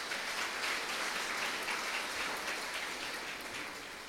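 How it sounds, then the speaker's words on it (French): Applause from an audience honoring young people at a ceremony, a continuous dense patter of clapping at moderate level. "Applaudis jeunes, s'il vous plaît."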